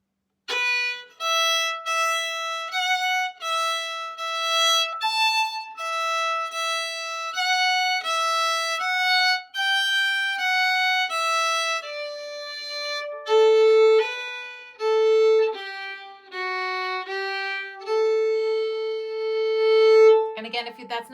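Solo fiddle plays the second section of Morrison's Jig, an Irish jig, as a steady run of clear bowed notes with a lilting rhythm, close and alone with no talk throughout.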